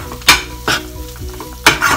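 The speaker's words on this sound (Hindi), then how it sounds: "इसको मिक्स करिए" Thick moong dal halwa is stirred in a hot pan, with three loud, close scraping strokes over a low sizzle.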